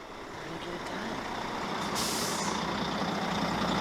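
Heavy trucks idling and rumbling in an outdoor HDT rally staging area, with a sharp air brake hiss bursting out about halfway through over the steady engine drone.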